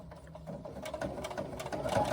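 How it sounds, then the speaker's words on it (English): A domestic sewing machine top stitches a swim bag with a lengthened stitch, a close, rapid mechanical whir with fluttering needle ticks that builds slightly over its short run. "I'm just going to do it all on the domestic."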